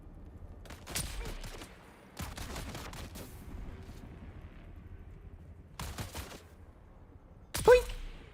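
Sporadic bursts of gunfire in Dune Awakening: a few short volleys of sharp cracks separated by quiet gaps, moderately loud, with a sharper, louder burst near the end.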